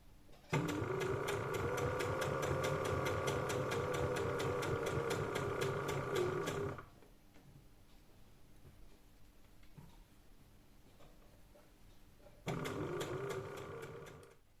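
A sewing machine stitches a T-shirt costume in a fast, even run of needle clatter for about six seconds, falls quiet, then starts stitching again near the end; no voices.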